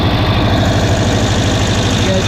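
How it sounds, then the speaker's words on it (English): A Cushman Truckster engine with a carburetor leaking a little fuel idles close by, a loud, steady, even chugging throb that holds without change throughout. "This thing is running mint. Runs really nice."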